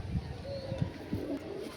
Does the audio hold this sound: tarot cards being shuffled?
no